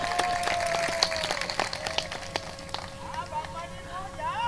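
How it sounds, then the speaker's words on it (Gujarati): Audience applause at a Gujarati bhajan and prabhatiya folk programme: scattered sharp claps over a steady crowd murmur, with voices and a sustained sung tone running through. "આ વધાવવાનું તાળીઓથી વધાવો."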